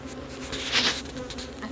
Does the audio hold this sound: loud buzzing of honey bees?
yes